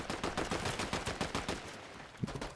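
Rapid gunfire in the video game Fortnite, a dense run of loud repeated shots in quick bursts, close and continuous for a couple of seconds.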